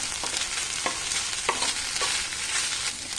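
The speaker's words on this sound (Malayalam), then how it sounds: "നമ്മളിതിങ്ങനെ ഇളക്കി ചെറിയ ഫ്ലെയിമിൽ വെച്ച് തന്നെ ഇതുപോലെ ഇളക്കിയെടുത്താൽ" Okra thoran being stirred in a pan over a low flame, a steady soft sizzle of frying vegetables broken by scattered light scrapes and taps of the spoon, close and continuous with no voices.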